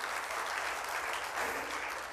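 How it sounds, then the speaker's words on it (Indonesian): A church congregation applauds during a sermon, a continuous, fairly faint wash of hand clapping with no break. "tepuk tangan buat Tuhan Yesus"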